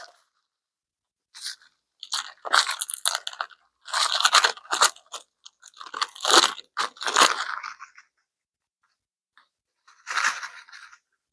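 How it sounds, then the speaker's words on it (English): Crackers are crushed into crumbs by hand, a series of close, crisp crunching bursts in irregular clusters separated by short silences, with one last isolated crunch near the end. "I'm just going to crush these crackers up"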